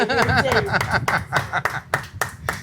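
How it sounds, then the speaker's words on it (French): A small group claps in a quick scattered burst, with laughter and chuckles mixed in at close range. "Bah, applaudissements."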